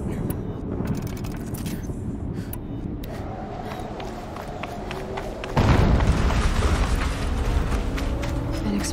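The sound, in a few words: explosion in video game Horizon Zero Dawn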